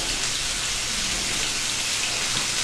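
Beef fillet for Beef Wellington hits a smoking-hot pan of olive oil and sears with a loud, steady, hissing crackle that stays even and close for its full length, with no voices.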